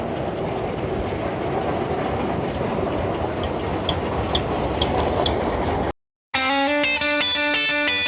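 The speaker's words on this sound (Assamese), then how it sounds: "এইখন হৈছে টয় ট্ৰেইন বুলি ক'লেও ভুল কোৱা নহয়" Toy train running at Elephanta Caves, Mumbai, a loud steady rumble of wheels on rails with faint rhythmic clicks, cut off abruptly and followed by music.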